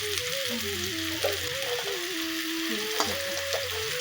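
A spice paste with coriander powder frying in oil for a fish curry, a continuous close sizzle with a faint stir or two, while a tonal whine runs underneath.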